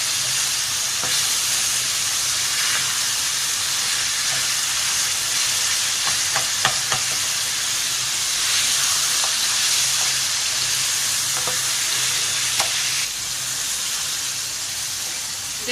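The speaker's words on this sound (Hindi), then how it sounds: "इसलिए बिल्कुल इसको अच्छे से भूनना है" Ridge gourd and meat frying for turai gosht give a steady, dense sizzle, with occasional light scrapes and clinks of a spoon stirring the pan, and no voices.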